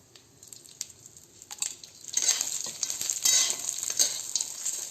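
Coconut, ginger and garlic roasting in oil in a kadhai, a soft sizzle that builds after a quiet start, with light stirring clicks.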